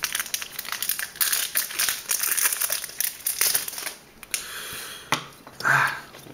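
A Magic: The Gathering Avacyn Restored booster pack wrapper is torn open, making loud, close foil crinkling and crackling for several seconds, followed by a few short rustles.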